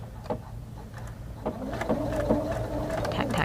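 A sewing machine runs close up, stitching a paper-pieced quilt star block with a short tack-stitch burst, a steady rapid mechanical whirr and chatter.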